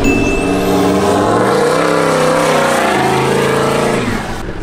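An automatic vehicle takes off from beach sand, its engine revving hard and pulling up in pitch as it accelerates, loud and close throughout before easing off at the end.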